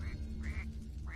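A distressed bird refusing water cries out repeatedly, three loud nasal quacking calls in a row, close by over a low background hum.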